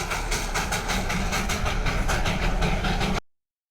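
A toy train running with a steady rhythmic clickety-clack, loud and close, continuing evenly before cutting off abruptly.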